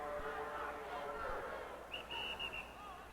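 A referee's short whistle blast sounds thinly at a noisy 1978 Wisconsin state wrestling final, rising above crowd murmur and a commentator's voice near the end.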